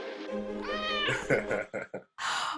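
A cat meows in drawn-out, wavering calls over about two seconds, fairly close and clear, then a sharp hissy burst ends it; recorded during a Star Trek Discovery panel where the cat is coaxed with tinfoil and treats.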